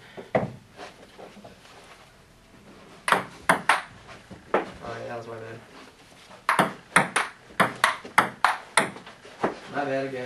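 Table tennis rally: after a quieter start with scattered taps and brief voices, crisp ball strikes on paddles and table pick up into a fast, regular close-range exchange toward the end.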